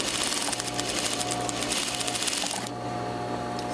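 A sewing machine stitches the seam of a fabric table runner, a steady close whir with fast needle chatter that runs continuously, then drops to a softer, lighter hum near the end.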